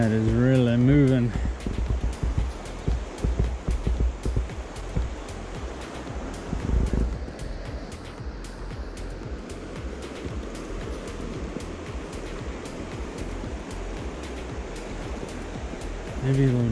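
Fast-moving, cold stream in the Laurel Highlands, a steady broadband rush of flowing water close by throughout, with someone speaking briefly over it.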